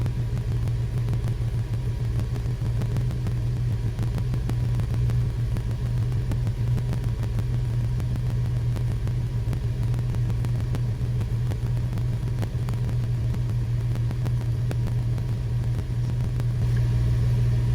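A Porsche engine idling, a steady low rumble that stays unchanged and close throughout, with no talk over it.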